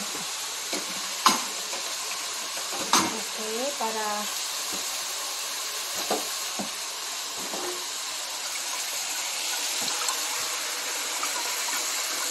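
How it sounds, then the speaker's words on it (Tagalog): Water hits a hot pan of frying pork and sets off a steady soft sizzle and hiss, with faint clinks of utensils. A voice speaks briefly over it. "Lagyan natin ng tubig."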